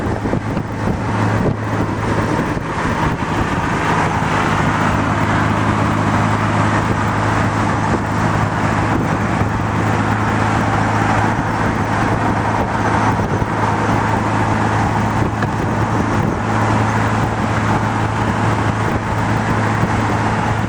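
A Porsche 356 Speedster cruising along a road, a constant loud engine hum blended with road and wind rush, unbroken throughout with no voices.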